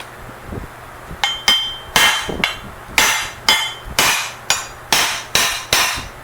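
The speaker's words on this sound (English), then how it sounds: "Now I haven't ground on this at all, so just hammer." Hammer blows on a steel plate of a Nissan Hardbody truck, about eleven sharp ringing metallic strikes in an uneven rhythm, close and loud with no talk.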